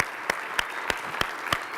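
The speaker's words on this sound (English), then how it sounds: "a round of applause" An audience applauding a speaker at a chiropractic college event, a steady wash of clapping with a few sharper claps standing out, and no voices over it.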